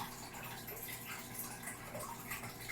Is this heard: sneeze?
no